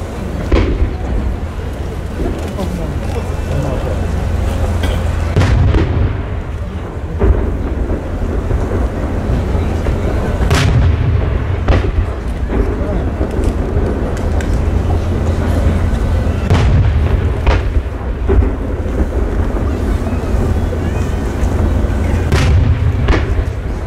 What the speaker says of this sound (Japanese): 二重の芯が入った割り物花火です。